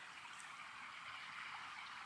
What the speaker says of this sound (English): if you can hear the waterfall coming over the old bridge